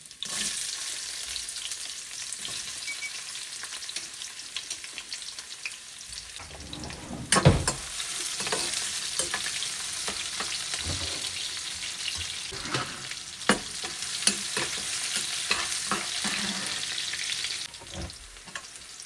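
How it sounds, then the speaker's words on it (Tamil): Onions sizzling and crackling steadily in a hot pan with cardamom, clove and curry leaves for a long stretch, with occasional clinks and scrapes of stirring. "ஸோ நல்லா வெங்காயம் பொரிஞ்சிருச்சு."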